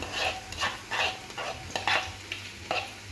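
Onions and green peppers fry in a pan with a steady sizzle, broken by about seven rhythmic scraping stirs of a utensil; close and moderately loud, with no talking.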